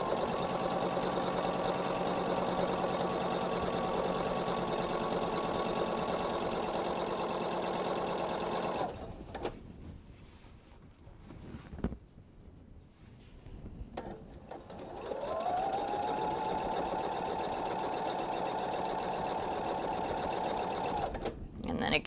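A sewing machine runs steadily while feeding fabric for a bench pillow, a close mechanical whir with rapid stitching clatter that stops for several seconds midway and then starts again, with a person talking over it.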